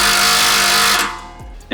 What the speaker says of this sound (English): take a 15mm and we're gonna remove this bolt up here on the clamp